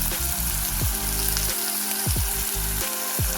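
Slit green chillies fry in hot oil in a pan for prawn curry, a loud continuous sizzle and crackle, close up, with stirring clinks and scrapes recurring through it.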